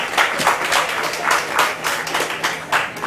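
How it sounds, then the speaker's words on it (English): A summit audience applauds in a rhythmic, pulsing round of clapping, moderately loud and slightly distant, with no speech over it. "Round of applause."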